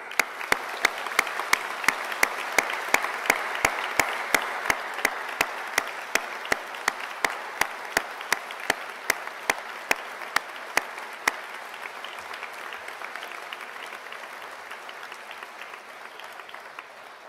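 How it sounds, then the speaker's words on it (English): An audience at a graduation ceremony applauds award and prize recipients with sustained, even clapping. A regular series of sharp ticks runs over the first two thirds before the applause gradually thins out. "please join us in giving all recipients of awards and prizes a final round of applause"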